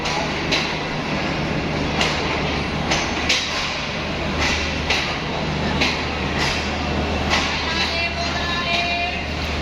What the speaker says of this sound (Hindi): मगर ट्रेन के आते ही स्टेशन पर एक गहमा गहमी सी आ गई।